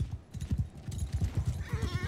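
Horse archers' mounts gallop in Mount & Blade II: Bannerlord, a steady run of close, loud hoofbeats in a rapid rhythmic clatter with no talk over them.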